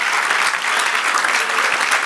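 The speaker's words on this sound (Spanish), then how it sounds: "dale el aplauso a nuestro Dios" A church congregation breaks into loud, dense applause for God, a continuous burst of many hands clapping close and full throughout.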